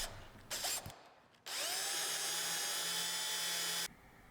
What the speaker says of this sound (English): on all four corners, I used this big unibit to get a rounded edge